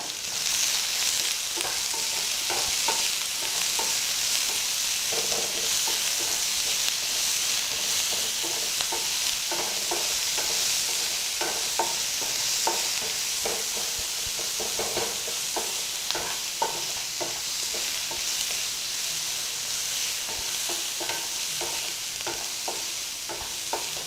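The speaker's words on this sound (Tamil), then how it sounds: "எடுத்து வச்சுருக்க காந்த மிளகாய் இந்த மாதிரி கிள்ளி போட்டுக்கோங்க போட்டு நல்லா வதக்குங்க" Dried red chillies are broken by hand and sautéed in a pan for aval upma, giving a steady, fairly quiet sizzle with light stirring scrapes running throughout and no talking.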